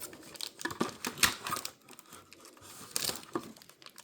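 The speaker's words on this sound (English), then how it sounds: "Gotta make sure the tape's off this time." Tape peels and crinkles off a new Beyblade X launcher in short, close, irregular bursts of rustling and tearing.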